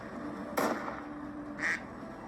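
Two short, clear quacks from ducks in a duck-shooting game, about a second apart, standing out over a steady low background hum.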